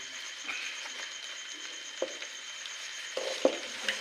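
A spoon stirs a thick corn sholyo in a cooking pot over heat, with a soft steady sizzle and scattered light scraping knocks against the pot.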